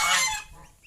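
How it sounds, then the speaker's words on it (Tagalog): Geese on a farm with ducks give one loud, harsh honk up close, then the sound fades into quieter background noise with no talk. "Ang daming pato, gansa oh."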